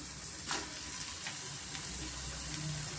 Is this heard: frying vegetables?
yes